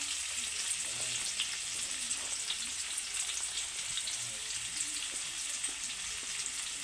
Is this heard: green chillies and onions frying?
yes